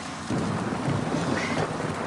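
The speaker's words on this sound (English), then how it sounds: "please don't worry about the rain, I'm sure it will stop soon" A steady wash of loud rain falls, broadband and hissing, with a deep rumble of thunder mixed in and no voices.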